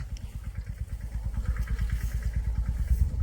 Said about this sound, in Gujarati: ઝીણકા ટ્રેક્ટરથી દવા છાંટવાનું હાલે